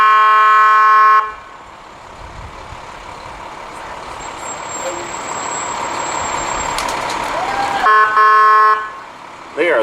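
Big fire trucks from a volunteer fire department roll past in a county fair parade, loud horn blasts at the start and end around a steady rumbling engine and a brief high tone.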